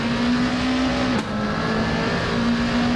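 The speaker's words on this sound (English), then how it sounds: "They're not my favorite V8 sounds in sim racing" A V8 race car engine in a sim racing game mod holds a steady high drone, briefly dropping in pitch as if shifting, then settling back into a constant roar with no talking.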